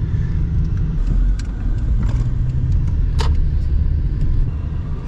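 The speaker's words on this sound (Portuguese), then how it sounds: "Confusão do caramba, um monte de carro." Cars in busy street traffic in New Jersey, a continuous close rumble of engines and tires with passing vehicles and a few faint clinks, no voices.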